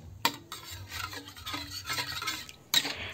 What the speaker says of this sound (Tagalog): Lutuin lang natin ang gata at haluin natin ito palagi